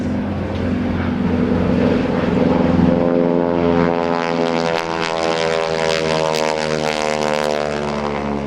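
Bill Leff's aerobatic propeller airplane performing at the 2010 NAS Oceana airshow, engine roaring loudly overhead with a rising, shifting drone as it banks and passes, heard alone without talk.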